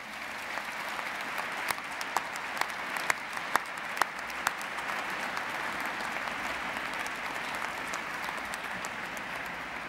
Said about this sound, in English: give a big round of applause to all those that have supported you in your journey on your studies